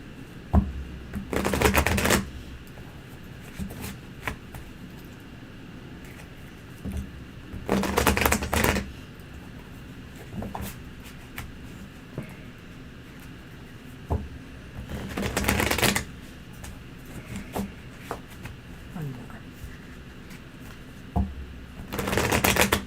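Tarot cards shuffled and dealt at a table for a three-card reading: several loud bursts of riffling and shuffling separated by quieter stretches of soft card handling and taps.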